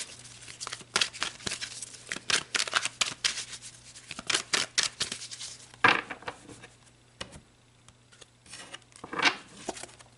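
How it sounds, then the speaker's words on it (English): Tarot cards are shuffled and drawn by hand, quick riffling flutters and soft slaps in uneven bursts, close and quiet, with a few louder snaps and brief lulls between handfuls. "So let's pull some more cards just so I can make sure that I am right in those messages."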